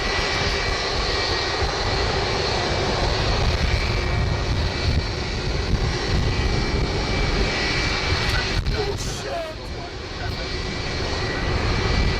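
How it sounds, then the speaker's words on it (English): Airbus A330 jet engines during taxi, a steady loud broadband roar with a faint high whine, continuous for the whole stretch with a brief dip near the end. "This Airbus A330 hit a light pole while taxiing."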